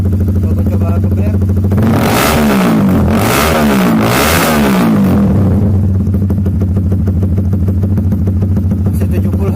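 A Honda Supra GTR motorcycle with a Proliner exhaust and dB killer revved hard: a steady idle rises into three sharp, loud revving surges, then settles back to a close, even idle.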